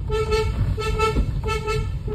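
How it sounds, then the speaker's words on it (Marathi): A car horn tooting in short repeated beeps, three spaced pulses over a steady engine and road rumble, fairly close. "रस्ता रिकामा आहे आणि मम्मी म्हणते उगाच हॉर्न मार."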